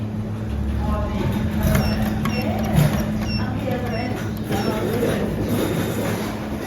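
Schindler 5400 AP machine-room-less traction lift running in a busy shopping centre in Ipswich, a steady close rumbling hum with faint squeaks and clicks over the top, no talking.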